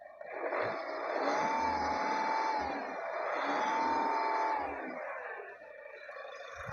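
A 2015 Skoda Rapid, second-owner car, revved in two long rising and holding sweeps, the engine droning steadily at moderate distance with no talk over it.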